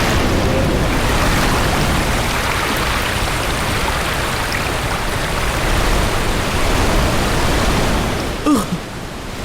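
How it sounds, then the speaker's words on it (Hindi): Cartoon floodwater surges in during rain as a loud, continuous broadband rush of water that stays steady for nearly ten seconds before a brief dip at the end. "ये तो बाढ़ आ गई।"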